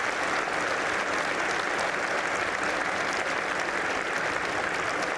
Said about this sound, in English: And why don't we give them a round of applause?